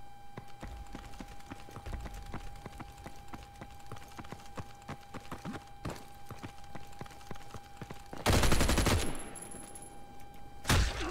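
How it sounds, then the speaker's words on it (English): Light machine gun firing in a video game, a long rapid stream of close gunshots in steady rhythm with a louder burst near the end. "I'll try my LMG again"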